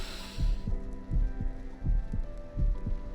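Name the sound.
heart beating sound effect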